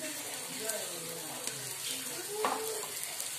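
Wingko babat, a coconut rice-flour cake, frying in a Teflon pan over medium heat gives a steady broadband sizzle throughout, with faint voice-like tones and a few soft clinks of utensils.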